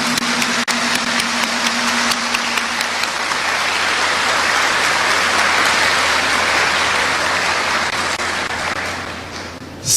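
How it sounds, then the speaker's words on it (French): Audience at a ceremony bursts into sustained applause, dense clapping from many hands holding steady for several seconds before tapering off. "avons-nous le plaisir de saluer votre contribution à la formation de 103 étudiants par un applaudissement chaleureux"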